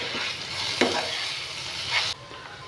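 Onions and carrot fry in a pan while being stirred, a steady close sizzle broken by a few scraping clatters of the spoon, with no one talking.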